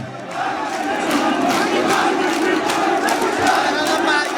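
Crowd chanting political slogans at a Jatiyatabadi Jubo Dal workers' meeting in Dashmina, Patuakhali: a dense, continuous roar of many raised voices, loud and steady throughout with no pauses.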